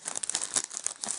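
Crinkly plastic packaging of a Poundland craft embellishment packet being torn open close by, a busy run of crackling rustles and sharp tearing bursts with no talking.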